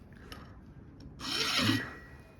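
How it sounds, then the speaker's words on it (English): A hand tool scrapes across the hardened edge of a Vevor 132-pound anvil in one short, harsh grating pass after a few faint taps, close and loud, with no talking. "graze it across the the edge of the anvil so you can see how hard it is."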